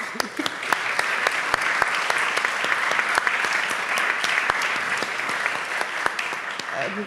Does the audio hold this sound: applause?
yes